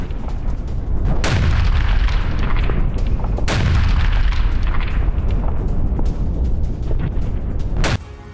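Heavy Russian army artillery fire and explosions during an attack on Volchansk: a continuous loud roar of blasts with sharp booming onsets near the start, middle and end, dense low rumble throughout.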